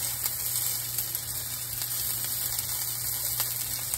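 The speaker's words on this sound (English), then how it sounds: "Start letting the onions cook down." Onions sizzling steadily in a frying pan, a constant close crackling hiss under a low electrical hum, with no talking.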